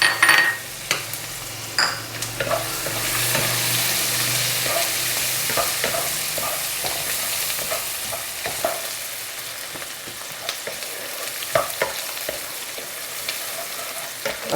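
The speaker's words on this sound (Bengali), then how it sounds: "আমি এবার পেঁয়াজটা দিয়ে দিচ্ছি," Chopped onion fries in a pan for upma, with a steady sizzle and frequent sharp scrapes and clinks as a utensil stirs it, close and clear with no voices.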